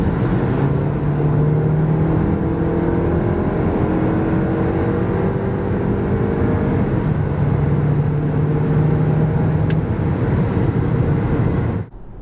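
Skoda Kodiaq Sportline 2023 with a 2.0 TSI 190 hp engine accelerating from 90 to 140 km/h, a loud sustained engine drone rising in pitch through gear changes under heavy road and wind noise, cutting off abruptly at the end.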